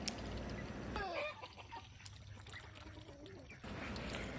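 A small duckling drinking and dabbling in a water dish inside a protected run, with soft trickling, splashing and dribbling sounds close by, plus faint peeps in the background.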